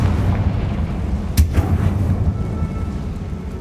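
Confringo fire-blast spell exploding in the video game Hogwarts Legacy: one sharp, loud blast over a rumbling, dense bed of game sound, with a brief crackling tail.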